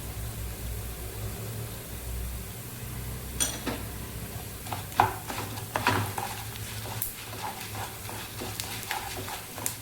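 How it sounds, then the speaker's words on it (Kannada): Coriander seeds and cumin dry-roast in a pan for a Kannada-style okra dry fry, with a soft background sizzle and scattered clicking scrapes of a spoon stirring the spices, close and fairly quiet. "ಒಂದು ಸ್ಪೂನಷ್ಟು ಧನಿಯಾ ತೊಗೊಂಡಿದ್ದೆ ಧನಿಯಾ ಹಾಕ್ಕೊಳ್ತಾ ಇದ್ದೀನಿ"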